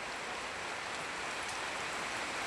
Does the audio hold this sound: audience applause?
no